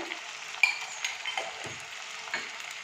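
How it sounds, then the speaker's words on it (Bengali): Potatoes frying with onions in a pan, seasoned with turmeric, Kashmiri chilli powder and salt, give a steady soft sizzle with a few brief stirring scrapes and clinks, close and fairly quiet. "আলুটা ভেজে নিয়ে আমি তুলে নেব। এই পেঁয়াজের সঙ্গেই ভেজে নিচ্ছি।"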